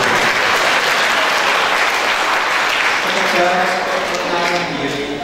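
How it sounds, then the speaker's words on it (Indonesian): Steady applause from a crowd, dense and sustained throughout, with a few voices rising faintly near the end. "Tepuk tangan dulu."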